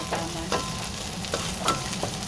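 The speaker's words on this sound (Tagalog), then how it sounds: "I'm cooking chicken." Chicken cooking in a pot for Bisaya-style tinola gives a steady close sizzle with a few light stirring scrapes and clinks, with no talk.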